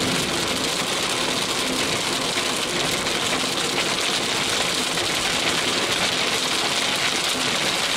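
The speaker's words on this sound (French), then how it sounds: "Pourquoi il pleut maintenant ?" Steady rain drums on a car's roof and windows, a dense continuous patter with a low engine hum underneath, no voices.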